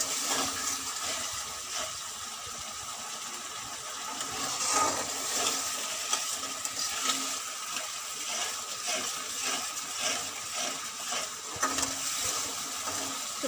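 Poppy seed paste mixed with curd is stirred in a pan over a raised gas flame, a steady close sizzle with scattered scraping strokes of the spatula and no talk.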